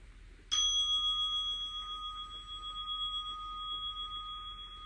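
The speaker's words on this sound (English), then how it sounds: "you will hear a bell every 5 minutes" A single meditation bell is struck once and rings on with a clear, sustained tone that slowly decays in a quiet room.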